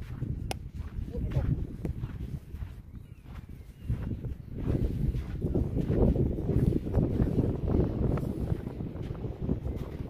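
Wind gusts buffet the microphone on a seaside walk at Le Touquet, a steady low rumble rising and falling under close conversation.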